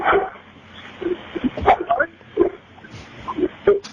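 A dog barks and whimpers in short yips scattered across the moment, mixed in with people talking over it in a studio radio show setting.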